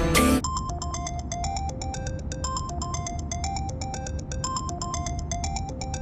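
A phone ringtone plays a bright, repeating melodic pattern of electronic notes, steady and clear with nobody speaking, after a brief burst of noise at the very start.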